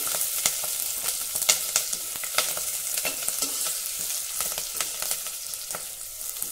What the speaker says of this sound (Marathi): हे बघा, लसूण हलक्या तांबूस रंगावर परतून झाला।